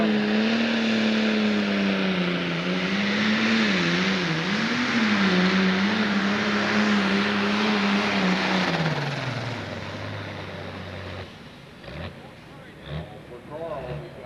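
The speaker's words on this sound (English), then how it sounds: "He's bringing the RPMs up on the night moves, Case Magnum. Here he comes." A Case Magnum pro stock pulling tractor at a 10,000 lb pull in Connersville, Indiana, revs its engine in a loud, steady drone that rises and wavers, then tapers off, while an announcer talks over it.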